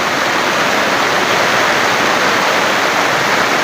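Heavy, unrelenting rain pours down in a steady, dense roar that stays loud and unbroken throughout, with no voices.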